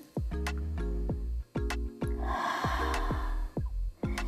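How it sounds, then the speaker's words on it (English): A deep breath in during a solar plexus chakra yoga flow: a soft, airy inhale lasting about half a second, partly masked by steady rhythmic tonal music with ticking beats. "One more deep breath in."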